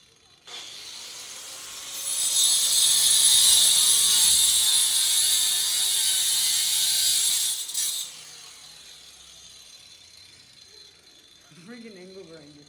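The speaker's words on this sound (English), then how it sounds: "Freaking angle grinder" An angle grinder cuts through a thick metal rod for a homemade pull-up bar, giving a loud, harsh, high-pitched metallic screech that holds steady for several seconds and then cuts off. A voice speaks briefly near the end.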